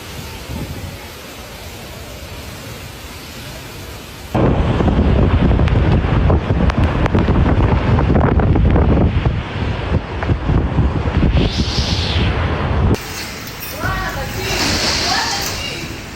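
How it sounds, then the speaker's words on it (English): A fierce gale roars and buffets the microphone during a severe thunderstorm in northeastern Hebei, China, loud and close, surging harder partway through. "Northeastern Hebei encountered thunderstorms, gale, hail, and very severe convective weather."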